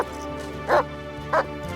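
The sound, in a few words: police K-9 dog barking during a search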